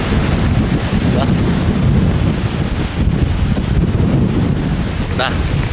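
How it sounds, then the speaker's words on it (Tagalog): Strong wind buffets the microphone on the northern Luzon coast in the Philippines, with rolling sea waves beneath, loud and continuous. "Tapos napakalakas ng hangin."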